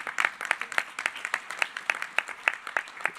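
An audience at a UN regional commissions meeting on the SDGs applauds, brisk scattered clapping at moderate distance, fairly faint and continuous, with no speech over it.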